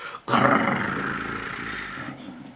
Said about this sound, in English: the wolf's hairs on his neck stood up and he gave a big growl